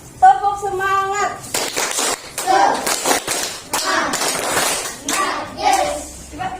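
Indonesian classroom of children chanting a rhythmic spirit clap after a teacher's singing cue, with bursts of group claps and voices shouting in time, close and lively, teacher's voice heard at the start.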